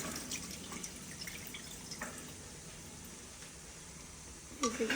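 A pot crusted with yesterday's dal being rinsed at a village sink, with faint running water, soft drips and splashes, and a clank near the end.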